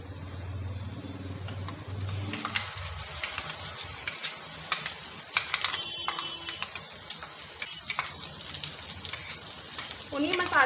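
Ground masala paste hitting fried onions in a hot pan for paneer butter masala: a sharp, close sizzle with scraping stirs and spoon clinks, gradually settling.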